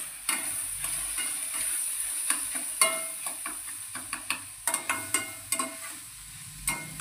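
Dal and onion cooking in a pan with chili powder, giving a steady low sizzle broken by sharp scraping clicks of a spoon stirring against the pan, close and without talk.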